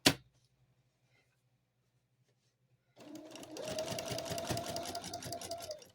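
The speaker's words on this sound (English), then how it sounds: "Go ahead and start stitching that along." A sewing machine stitches a quilted hot pad, starting after a sharp click and near silence, then running as a steady, close whirring hum with a rapid mechanical patter for the final few seconds.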